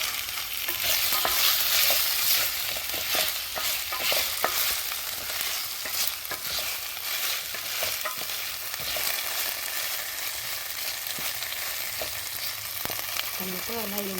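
Tomatoes frying in a pan for fenugreek and lotus seed biryani, a loud, steady sizzle with scraping stirring strokes throughout, close up and without talk.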